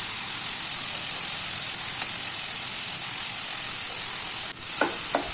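Curry leaves, chopped onion and dry red chillies frying in oil give a steady, bright sizzle throughout, with a couple of sharp clicks near the end as the pan is stirred.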